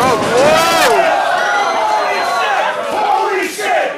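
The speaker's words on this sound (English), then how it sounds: "This crowd chanting" Crowd at a live wrestling event, loud and near, chanting and roaring together in rising, rhythmic shouts, with a few louder whoops standing out from the mass of voices.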